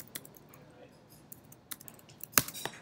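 Typing on a computer keyboard gives a scattered series of sharp, close clicks with uneven rhythm and a louder tap near the end, without any talking.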